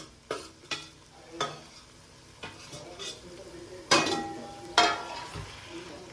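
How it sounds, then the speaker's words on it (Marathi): Prawns tipped into a pan of tomato masala and stirred with a utensil, giving a run of clinks and scrapes against the pan with a light sizzle underneath, close and fairly loud, with no talk. "आता याच्यात आपल्याला कोलंबी ऍड करायची आहे."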